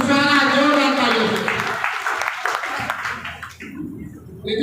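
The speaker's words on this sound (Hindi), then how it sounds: "इनके लिए जोरदार ताली, जोरदार ताली" At a Nag Panchami and Chaurasia Day community program in Rewa, a voice speaks over a crowd as applause for an honoured student rises to a busy clatter of claps, then thins toward the end.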